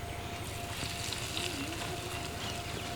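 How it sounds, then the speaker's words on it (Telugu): Mustard seeds, cumin, dried red chillies and curry leaves temper in hot oil for a tamarind pickle, a soft, steady crackling sizzle heard close and alone throughout. "ఈ తాలింపుని బాగా వేయించుకొని పచ్చడిలో వేసేసుకుందాం"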